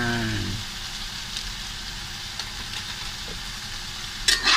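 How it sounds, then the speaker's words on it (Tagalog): Eggplant with shrimp paste stirred in a frying pan, a steady close sizzle with faint scraping of the utensil and a sharper clatter near the end. "Haluin muna natin."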